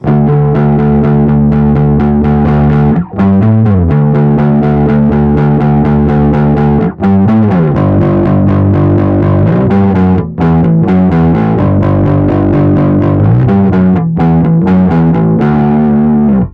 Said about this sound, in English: It's a high gain distortion, but it's also very dynamic.